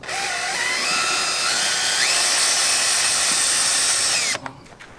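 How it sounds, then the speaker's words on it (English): A power drill drives screws while a Type R-style front lip is fitted to a 10th-generation Honda Civic. The whine is close, loud and continuous, its pitch climbing in steps, and it cuts off abruptly just before the end. "As I'm pushing it in, Alex is going to try screwing it in so we can get better fitment"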